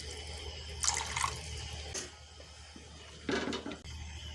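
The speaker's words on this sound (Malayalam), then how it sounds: "അപ്പോൾ ഇനി നമുക്ക് വീണ്ടും കുറച്ച് വെള്ളം ചേർത്ത് കൊടുക്കാം" Water splashes and pours in two short bursts into a metal pot of sardine chilli curry, with faint clinks and a low steady hum in between.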